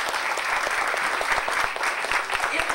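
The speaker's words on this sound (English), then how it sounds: "yes, round of applause." A congregation at a worship service aboard ship breaks into brisk, dense applause after the morning service, steady and fairly close throughout.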